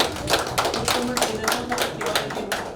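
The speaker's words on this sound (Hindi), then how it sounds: "जजेस के लिए तालियां" Applause for the judges at a Jal Jeevan Mission training session, a small group clapping in a loose rhythm of distinct claps, fairly close and moderate in level.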